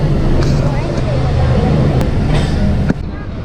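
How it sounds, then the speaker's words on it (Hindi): The Tezgam passenger train pulls away from the platform at Khanewal railway station with a loud, steady low rumble, under background voices. "57 पे गाड़ी चल पड़ी है जी मोहम्मद"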